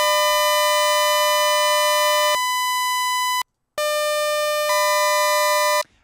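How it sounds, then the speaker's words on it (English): Stacked pure sine tones sound together in steady sustained blocks, their sum and difference combination tones shifting at each step, with a brief silent gap midway; loud, clean and electronic with no voices. "they're all adding together and giving you a series of sum and difference tones"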